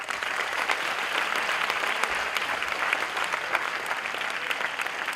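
An audience applauds steadily at a celebration event for Children of a Greater God, a dense, even clapping that fills the whole stretch without pause.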